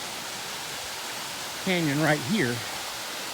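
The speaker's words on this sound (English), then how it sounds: "because that's Little Ugly Falls." Little Ugly Falls in the Sipsey Wilderness gives a steady, full rush of falling water from start to finish, with someone talking briefly over it.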